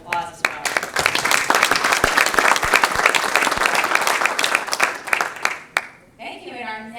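Applause from a conference audience after a panel on regional airlines and rural delivery, a dense burst of clapping with sharp individual claps, fading out near the end as a voice begins speaking.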